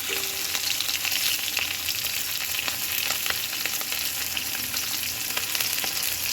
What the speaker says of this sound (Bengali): মাছটা ভাজা হচ্ছে, নামিয়ে নেব